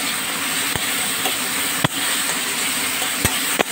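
Spatula pressing and stirring tomatoes with matar dal lentils in a pan, a steady sizzling hiss broken by a few sharp scrapes and taps of the utensil against the pan.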